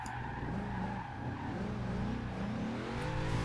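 A Chevrolet Monte Carlo SS drifts in Forza Horizon 2, its tires squealing in a long, loud, continuous skid over a steady engine drone, with no talking.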